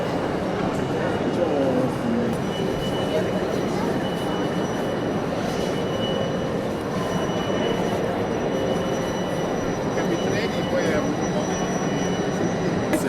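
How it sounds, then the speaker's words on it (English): Passenger train hauled by two Bombardier locomotives, one at each end, gives a steady loud rumble on an Alpine line, with faint voices underneath. "there are two lovely Bombardier locomotives on either end."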